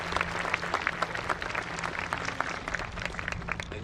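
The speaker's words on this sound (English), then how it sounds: "And please give everyone a round of applause." A commencement audience at the Three Rivers 2023 ceremony applauds steadily, a dense, even wash of many hands clapping that holds at a constant level throughout with no voices rising above it.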